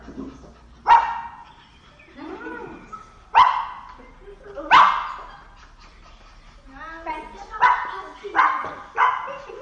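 A child imitates a dog, giving a series of loud, separate barks with short pauses, ending in a quicker run of yips.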